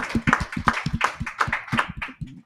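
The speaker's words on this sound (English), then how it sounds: "Man, clap that up, man." A person claps hands in a quick, uneven series of about a dozen sharp claps over a couple of seconds, close and dry, alone without voices.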